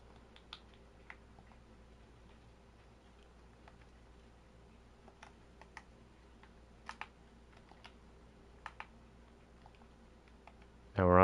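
Sparse, faint clicks of typing on a computer keyboard while working in Dreams on PS4/PS5, scattered irregular keystrokes over a quiet background, ending with a louder burst of sound.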